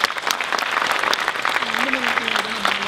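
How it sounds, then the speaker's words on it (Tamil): Audience applause at a film trailer launch, a steady burst of clapping from a crowd filling the room for a few seconds. "நல்லா ஒரு கிளாப் பண்ணுங்க"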